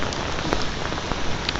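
Steady rain pours down hard during a test of a US military poncho, a dense, loud hiss of drops drumming on the surface that holds constant throughout with no one speaking.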